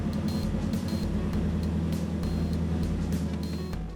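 Nissan Titan, Armada or Pathfinder engine idling steadily after a fuel pump replacement, a close, even rumble with a low pulsing hum and faint ticking, no voices.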